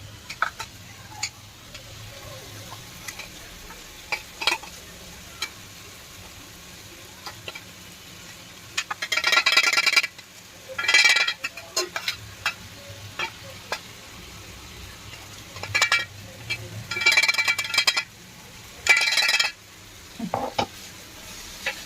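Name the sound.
ground peanut chutney sizzling and stirred in hot pan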